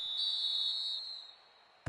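A referee's whistle in a football video game sounds as one long, shrill, steady blast that tapers off, followed by a brief sharp click at the end.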